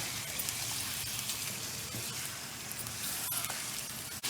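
Chicken pieces frying for lauki gosht, giving a continuous close hiss and sizzle with faint crackling pops, steady and fairly quiet throughout.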